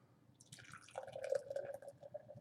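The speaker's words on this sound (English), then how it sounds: "Give it a crack, give it a pour" Bud Light Lime beer pours into a glass with a soft, bubbling gurgle, starting about a second in and continuing steadily, quiet and close.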